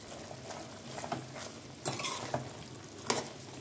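A spoon scrapes and stirs masala paste through chicken biryani in a pot, soft irregular scraping and clinks with faint sizzling underneath, close by and without talk.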